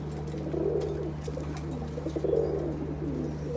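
A Chuachandan pigeon coos nearby in soft, rolling bursts that rise and fall over a constant low electrical hum, with no one speaking.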